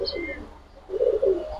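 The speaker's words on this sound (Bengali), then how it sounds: "কবুতর ডাকলেই সুন্দর" Pigeons cooing close by: two short, soft, low throaty coos, the second a little louder, with a faint higher chirp at the start.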